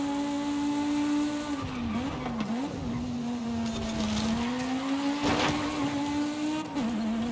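Racing game V10 super saloon engine holding a steady loud whine, dipping and wavering through corners with brief throttle lifts, with light tire scrub noises mixed in and no voices.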